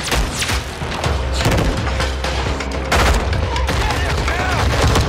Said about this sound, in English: They shooting.